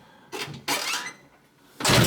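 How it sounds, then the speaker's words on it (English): Two bursts of car door movement on a 1977 Camaro Z28, an opening swing and then a firmer close, separated by a short quiet gap, heard close by. "Can you open and close the door properly?"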